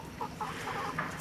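Hens in a backyard coop cluck in a few short, soft bursts, fairly close and with no one talking over them.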